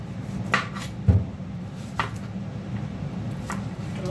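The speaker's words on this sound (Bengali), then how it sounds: "টমেটোটা কেটে নিচ্ছি।" Knife cutting a tomato on a board while cooking a fish curry at home, a few separate sharp taps and slices spaced apart, close and moderately loud.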